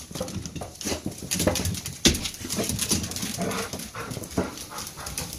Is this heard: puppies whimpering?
yes